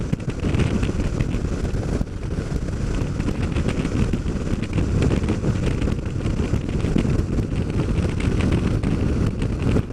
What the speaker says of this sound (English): Just a little tad bit on the windy side. Probably 10, 12 mile an hour winds.